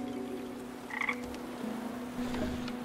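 A frog croaks in the Grim Legends video game, a few short close croaks over a steady ambient game drone, with no voices.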